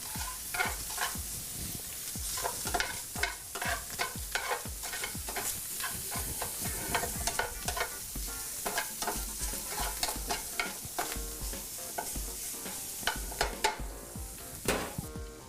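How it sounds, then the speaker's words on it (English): Food tossed and browning in a frying pan at a Chefologie 2014 Taste of Town cooking demo: steady loud sizzle with dense, rapid clatter of stirring and pan scrapes throughout, no talking. "Make sure you keep tossing this. Just want to get it nice and browned."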